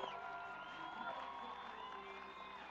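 Large convention crowd in a Las Vegas arena cheering and whooping steadily, a dense, continuous roar with scattered shouts and music underneath throughout.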